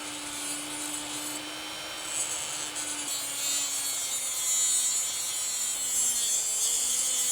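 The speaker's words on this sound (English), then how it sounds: "Outlined with the Dremel first, then I finished it with the handsaw." A handsaw cuts through rescued wood for a hand-carved trophy, finishing a cut first outlined with a Dremel. The rasping saw noise is steady and close, with a faint constant hum underneath and no talking.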